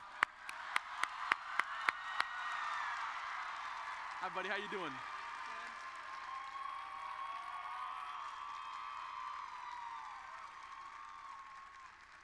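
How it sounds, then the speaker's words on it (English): Large convention audience at the National FFA Convention & Expo breaking into broad, distant applause and cheering for a young man named Aiden, following a few sharp clicks. A man greets him warmly over the crowd. "Give him a round of applause."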